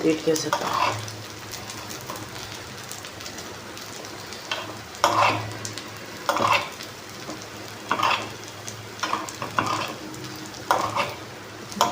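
Gunta ponganalu frying in oil in a paniyaram pan sizzle steadily while they are turned one after another, each turn adding a short scrape or clink over the constant crackle. A voice speaks quietly at times.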